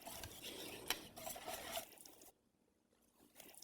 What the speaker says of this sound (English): Now I like to use a whisk.